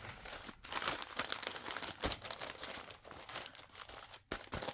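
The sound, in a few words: paper being folded for a junk journal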